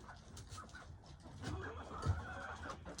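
Chickens and a rooster clucking softly in a backyard coop during a morning feeding, low scattered calls close by with faint background noise and no talking.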